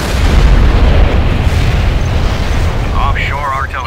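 Offshore artillery shells exploding in the strategy game Command & Conquer Generals Zero Hour, a loud sustained rumbling blast with a short voiced radio line near the end.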